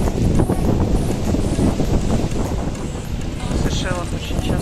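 Steady wind roars across a broad, shallow beach at a resort on Mahé, Seychelles, a loud continuous buffeting that fills the clip, with a brief faint whine near the end.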